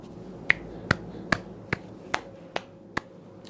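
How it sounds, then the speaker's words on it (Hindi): A single man claps his hands in seven sharp, evenly spaced claps, close and crisp against a quiet background. "महाराष्ट्र सरकार के लिए मैं ताली बजा रहा हूं।"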